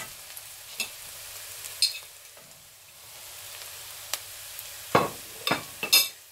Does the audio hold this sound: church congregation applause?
no